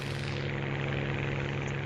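Engine of a Spitfire Mk I fighter plane in a flight video game, a constant droning propeller roar with a steady low hum and no breaks.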